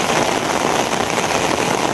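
Heavy rain pours down outdoors in a dense, unbroken hiss that stays loud and even throughout, with no voices.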